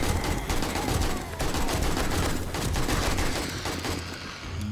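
Sustained rapid gunfire from a firearm in the zombie survival game 7 Days to Die, a dense, continuous stream of close, loud shots rattling for several seconds.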